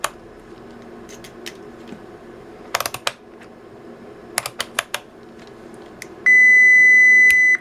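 A Fluke 87V multimeter on diode check gives a steady, loud electronic beep near the end, after scattered clicks and taps from handling the test leads.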